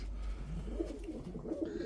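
Soft, low pigeon coos repeat faintly over a steady background hum, a few gentle calls close together.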